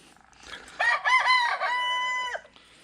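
A rooster gives one loud, close crow, rising through stuttered opening notes into a long sustained tone that cuts off cleanly, with a quiet farmyard before it.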